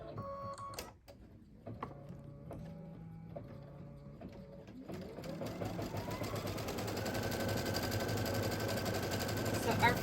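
Sewing machine stitching a placement line on felt: a steady, fast mechanical chatter that starts after a few separate clicks and rises into a continuous, loud run to the end.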